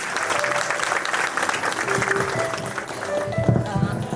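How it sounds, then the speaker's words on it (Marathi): Sustained applause from a gathered audience at a retirement function, a steady loud clapping close by that fills the whole moment, with some voices mixed in. "आपल्याला एकदा टाळ्यांचा गजराट व्हायला पाहिजे."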